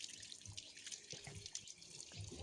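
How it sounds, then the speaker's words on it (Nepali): Leafy greens being washed under running tap water, a soft steady stream with splashing and handling noises, faint and close, with no talking. "सागहरु फटाफट धुँदैछु"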